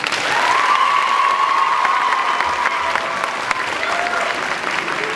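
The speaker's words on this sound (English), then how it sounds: "Let's give them a round of applause." An audience at a Young Americans outreach tour show in Russellville, Alabama gives performers a round of applause, loud steady clapping with some cheering and a sustained whistle-like tone partway through.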